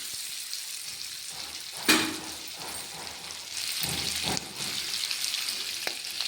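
Cucumber dal cooks in hot oil with a steady close sizzle, broken by a few sharper spattering bursts as it is stirred.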